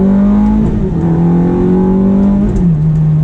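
Ferrari F430 engine in sport mode, heard from inside the car: loud, continuous engine drone whose pitch climbs and shifts between gears, steady and close throughout.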